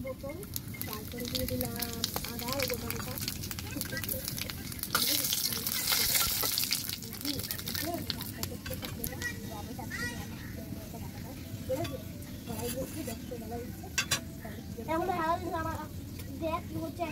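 Whole spices frying in oil in a pan for a Bengali doi rui fish curry: bay leaves, cinnamon, cardamom, cloves and black cumin. A continuous crackling sizzle with stirring, and voices, including a child's, in the background.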